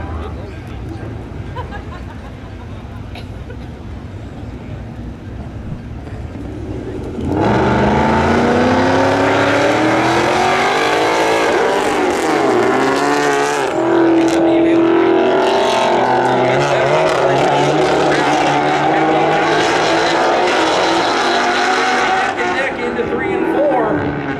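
Drag racing cars, a Mustang and a VW, roar down a spectator drag strip at a winter warm-up event; loud sustained engine noise rises sharply after a quieter start, with an announcer talking over it.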